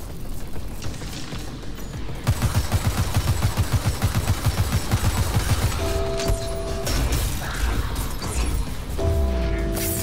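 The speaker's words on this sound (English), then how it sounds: "A micro drone fitted with a heavy firearm is attached to your back" A drone-mounted heavy firearm in the video game The Surge 2 firing long, rapid bursts of loud automatic fire amid crashing impacts and game effects.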